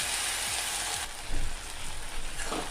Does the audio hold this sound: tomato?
yes